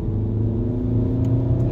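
A Peugeot 308 GTI's turbocharged engine pulls steadily under acceleration, a close, continuous low rumble heard from inside the car with no talk over it.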